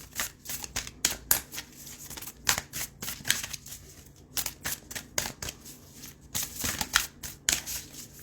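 An oracle card deck being shuffled up close, with repeated quick riffling bursts and soft slaps in an uneven rhythm, no voices.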